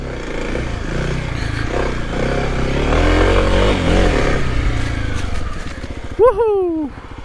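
A Kawasaki KLX 300 trail motorcycle rides rough technical trails up close, its engine revving and bogging in uneven surges with clattering, before a rider's voice whoops loudly near the end.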